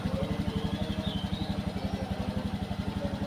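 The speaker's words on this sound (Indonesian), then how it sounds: "iki montore wis disiapno Pak Su wis dipanasi" A warmed-up motorcycle engine idles close by with a fast, even putter and a faint mechanical clatter, holding steady throughout with no voices.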